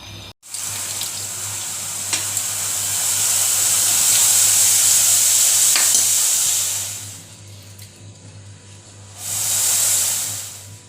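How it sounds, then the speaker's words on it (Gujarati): Turmeric milk boiling up in a pot on a gas stove gives a steady broad hiss and bubbling rush that swells for several seconds, drops off, then surges again near the end, with a low hum underneath. "અહીંયા આપણા દૂધમાં ઉફાણો આવી ગયો છે અને ગેસ કરી દઈશું બંધ।"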